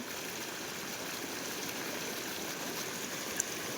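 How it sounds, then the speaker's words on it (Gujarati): Water pours steadily through a breach in the Ozat river embankment near Junagadh, a soft, even rushing hiss that carries on without a break. "આજ 5 દિવસ થયા છે, સતત પાણી નીકળે છે."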